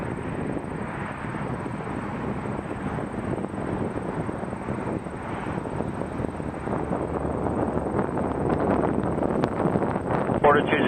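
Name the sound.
Cathay Pacific A350 airliner departing at Toronto Pearson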